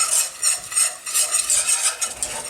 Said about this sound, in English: Keep whisking continuously and keep going in all, all around.